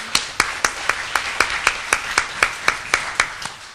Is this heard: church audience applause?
yes